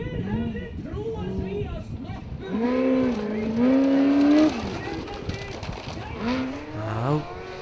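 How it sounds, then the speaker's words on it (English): Formula Offroad buggy engine screams at full throttle in Iceland, its pitch sweeping up and down with gear changes and terrain, heard beneath a commentator talking. "here we go, full throttle, nailing it through the last part of the course"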